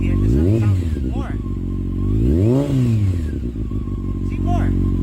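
A Honda CBR 600F4i motorcycle engine revs up in two or three sharp, rising and falling blips over a steady idle. It is loud and close, and someone talks over it.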